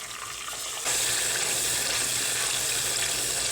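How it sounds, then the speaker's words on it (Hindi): Spice paste added to golden onions in a hot pan for mutton and cauliflower curry, a quiet sizzle that jumps into a loud, steady hiss after a second and stays dense and close. "एक 2 मिनट के लिए इनको भी हम फ्राई होने देंगे प्याज़ों के साथ"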